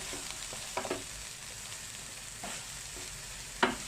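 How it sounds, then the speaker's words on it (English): Okra sizzles steadily in a hot pan, a soft continuous frying hiss with occasional faint clinks and scrapes of stirring. "You see, the okra has been fried. You can hear the sound."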